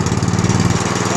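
A small Honda/Predator engine with a freshly cleaned carburetor runs steadily at idle, a close, loud, even putter with no talk.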